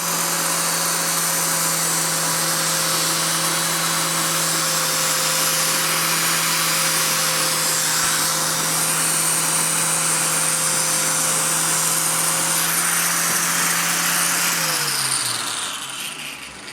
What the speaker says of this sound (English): turn on your bench grinder